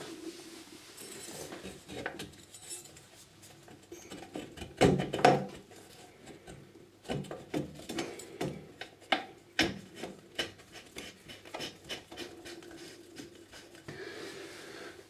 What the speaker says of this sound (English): we're just going to put the nut back on and then tighten it back up